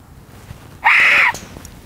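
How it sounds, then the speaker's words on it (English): Loud, shrill scream-like call over an open golf course, a single sustained blast of about half a second standing out sharply against quiet outdoor background. "Did you guys hear the hawk?"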